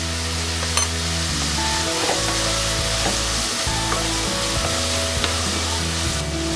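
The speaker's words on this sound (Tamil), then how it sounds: "வெங்காயம் வந்து கொஞ்சம் நல்லா வதங்கணும்" Onions with salt sautéing in a pan for tomato rice, a dense steady sizzle and crackle close up, with occasional scraping of a stirring spoon, no voices.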